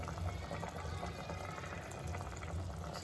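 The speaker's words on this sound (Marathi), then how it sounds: "मटणाला उकळी हे आहे" Mutton curry bubbles in a pot in a small home kitchen, a steady, dense boil that continues evenly throughout with no talk.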